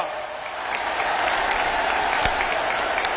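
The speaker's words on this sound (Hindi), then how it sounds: "जोरों से ताली बजाइए साथियों" Crowd applause at a public event in Sheopur, Madhya Pradesh, a steady dense wash of clapping from many hands that holds roughly even throughout.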